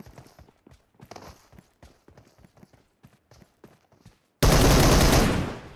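Gunfire from PUBG Mobile crackles in rapid, irregular shots, followed by a sudden loud blast of noise near the end. No one talks.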